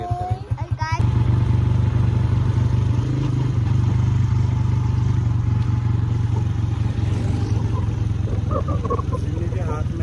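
A motorcycle carrying children rumbles steadily and loudly close up for the whole stretch, its engine drone constant with wind noise, while voices talk faintly over it.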